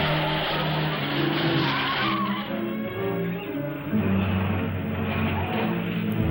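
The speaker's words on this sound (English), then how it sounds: "Dangerous high-speed chase." Car chase in an old science fiction film, with loud screeching tire skids and a roaring engine, the squeals rising and sliding in pitch over a continuous rumble.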